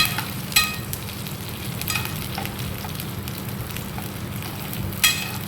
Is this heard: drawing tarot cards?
no